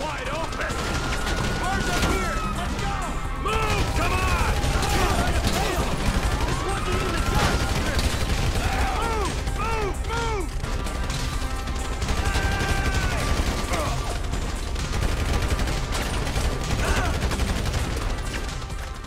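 Heavy gunfire and crashes in the video game GTA 5 during a police shootout, rapid bursts of shots over music and chaotic noise, with shouting voices layered on top throughout.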